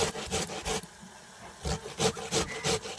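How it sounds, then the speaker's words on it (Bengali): Ash gourd grated by hand on a grater at home for making bori, rhythmic rasping scrapes in quick strokes, a cluster of three, a pause, then five more, close and distinct with no talk. "আমাদের চাল কুমড়োর বড়ি দেওয়া হবে তার কারণে চাল কুমড়োগুলোকে এরকম করে মা ঘষে নিচ্ছে"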